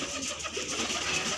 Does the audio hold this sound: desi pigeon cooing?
yes